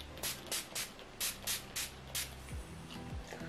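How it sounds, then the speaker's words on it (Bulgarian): NYX Radiant Finish makeup setting spray is misted in a run of short, quick bursts, about ten soft hissing pumps in a steady rhythm, close and faint. "И сега остава да завършим цялостно грима с техния нов сетинг спрей."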